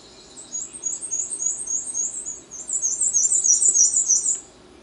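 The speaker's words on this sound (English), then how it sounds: "Does it sound like a squeaky wheel? The black and white warbler." Black and white warbler singing a thin, high, squeaky repeated phrase, two runs of rhythmic notes with the second louder and denser, heard alone over faint background.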